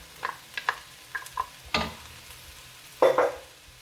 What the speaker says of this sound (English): Give it a good stir, get it all mixed in nicely.